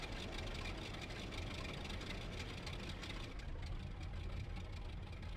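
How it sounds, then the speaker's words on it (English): A Mitsubishi A6M5 Zero fighter's radial engine runs in IL-2 Sturmovik, a steady, loud, dense drone holding evenly throughout with no talk over it. "The engine is fired up."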